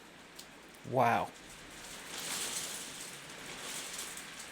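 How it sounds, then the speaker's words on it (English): Wind-driven rain and sleet patter steadily outside during a spell of spring weather, a soft continuous wash after a brief spoken exclamation. "that wind now has turned to rain and sleet. You can probably hear it."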